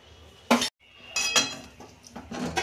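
Chana paneer curry is scraped out of a metal pan with a spoon, giving several close clinks and scrapes in short bursts with a brief pause between them.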